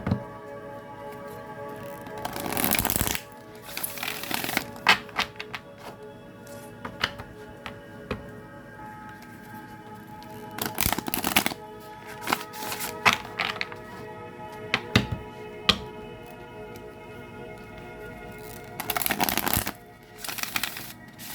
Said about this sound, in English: I'm being led to shuffle 7 times.